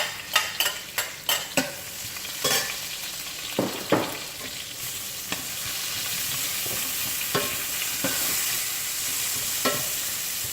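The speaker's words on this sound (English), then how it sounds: "I'm going to saute the onions and the minced garlic first" Onions and minced garlic sauté in a pan for spicy bourbon chicken. A quick run of sharp spatula knocks and scrapes opens over a sizzle, then a steady frying hiss takes over with only occasional stirs.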